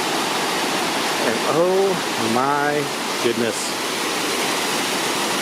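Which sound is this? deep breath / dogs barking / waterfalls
waterfalls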